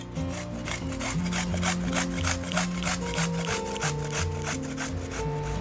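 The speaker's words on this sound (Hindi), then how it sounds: "बड़ा बाउल लेंगे और कद्दू को हम ग्रेट कर लेंगे।" Ripe pumpkin being grated by hand into a large bowl, a quick series of rhythmic scraping rasps with a soft hum in the background, close and moderately loud with no talking.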